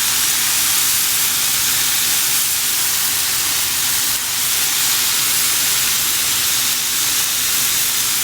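Chopped Swiss chard hitting a hot pan for vegan Mexican enchiladas, a steady loud hiss of sizzling steam running evenly throughout with no talking.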